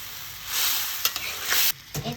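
Potatoes tumble into a spice paste frying for Bengali aloo dum, giving a steady close sizzle with stirring scrapes and a few sharp clinks of utensil on pan.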